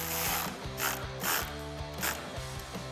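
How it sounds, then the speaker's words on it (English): An Allen bit ratchet bolts an LED light bar onto its mounting brackets on a Ford Bronco, several quick clicking ratchet strokes close to the mic, with no talking. "bolt them onto your brackets"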